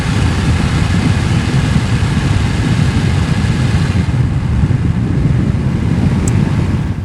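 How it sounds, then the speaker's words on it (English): A one-owner 1988 Chevrolet Silverado with a 5.7 V8 and factory single exhaust idling, a steady low rumble with a constant airy hiss, close and unbroken throughout. "The exhaust is still a factory single exhaust."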